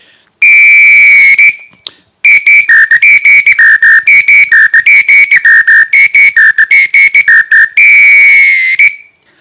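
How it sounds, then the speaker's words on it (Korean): Samba whistle fitted with two extra side holes beside the central one, blown loud and close in a rapid rhythmic pattern as the side holes are covered and uncovered, pitch flipping between two shrill tones in bursts with brief gaps. "이 호루라기 양옆에 구멍을 하나를 더 뚫었어요"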